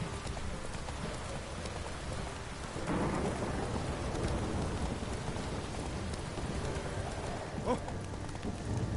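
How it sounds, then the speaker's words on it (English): Heavy rain pours in a video game downpour in The Witcher 3, a steady dense hiss that swells louder partway through, with a low rumble beneath and no talk. "This downpour's a bastard"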